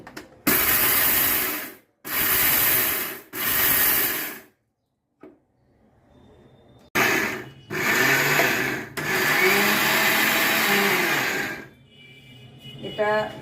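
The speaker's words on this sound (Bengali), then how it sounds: "এটা এখন সঙ্গে সঙ্গেই আমি গুঁড়ো করে নিচ্ছি" Fenugreek seeds whirring in an electric grinder into powder, a loud close motor roar in several bursts of a second or two, then a pause and a longer continuous grind.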